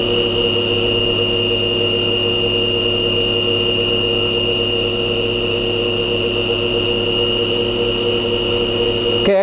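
A DC spindle motor on a D&M4 CNC mill runs steadily at speed, giving off a loud, continuous whine with stacked tonal harmonics and a low hum, unbroken for the whole stretch and cutting off abruptly at the very end.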